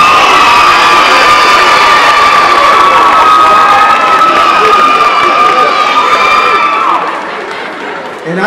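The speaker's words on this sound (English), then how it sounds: "I want you to give a big round of applause also to Ms. Galvin, Ms. Denzi," A loud crowd at a school education event cheers and whoops with high, sustained children's shouts over clapping, fading toward the end.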